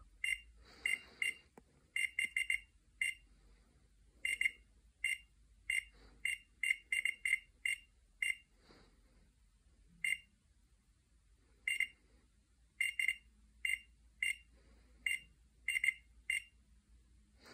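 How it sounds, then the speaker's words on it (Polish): A Bella handheld dosimeter emitting short high electronic beeps after displaying its reading, irregular clusters of quick chirps spread across the clip, close and fairly quiet against a near-silent background. "Po pokazaniu wyniku słyszymy jeszcze piknięcia"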